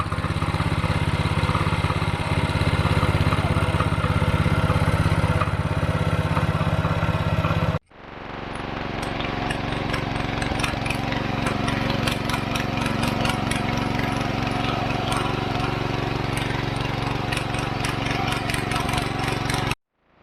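Petrol engine on a farm machine running after refuelling, a steady, loud mid-pitched drone that cuts out briefly near eight seconds and then resumes alone.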